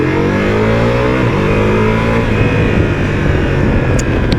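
A 2021 Ducati Multistrada V4S motorcycle pulls away loud and close, its V4 engine note climbing steadily as it accelerates under constant wind rush.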